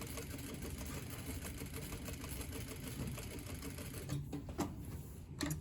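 A sewing machine stitching a tailored sleeve placket, a quiet, steady rapid mechanical whirr with a fast rhythmic needle pattern, and a few small knocks near the end.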